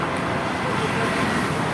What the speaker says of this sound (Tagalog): Luwag lang oh. Luwag ng traffic.